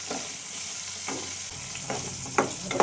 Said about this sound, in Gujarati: મરચાં સતળાઈ ગયા છે